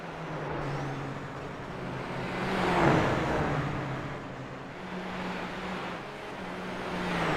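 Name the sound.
race car engine on throttle in a racing video game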